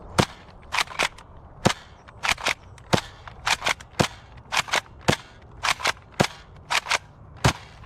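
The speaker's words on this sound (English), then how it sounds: "Now let's fire some shots downrange." A NERF N-Series StrikeBack pump-action blaster fires darts in quick bursts: sharp, loud cracks come in pairs and singles with short gaps for pumping, about two dozen shots over several seconds, no voices.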